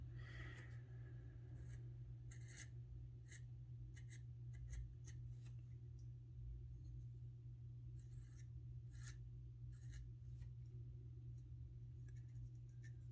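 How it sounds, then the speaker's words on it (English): An ink pen nib drags across paper, going over pencil lines to darken wood-bark texture, giving soft scratchy strokes in short repeated bursts, close and faint. "I'm making it nice and heavy by going over a couple times with the nib"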